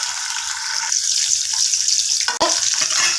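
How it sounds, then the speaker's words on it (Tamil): Onion with tomato and spices frying in a pan for a masala: a steady close hissing sizzle, briefly broken by one sharp knock near the end, with no voices. "இது கூட நம்ம வெங்காயம் சேர்த்திக்கலாம்."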